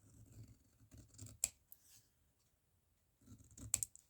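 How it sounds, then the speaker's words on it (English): Scissors trim down paper scraps in two quiet bursts of crisp snips and clicks, close by, with short pauses of near silence between them. "just trimming down a few bits"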